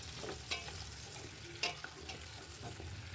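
Mutton paya (trotters) frying in a pan with onions and cumin, a steady low sizzle with soft stirring scrapes and a couple of clinks, fairly quiet and close, no talk.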